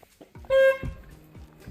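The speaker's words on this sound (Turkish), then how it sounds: "kornanın sesini göstereyim" A short, thin electric car horn beep sounds once, faint and buzzy, between soft handling noises and clicks, during horn installation.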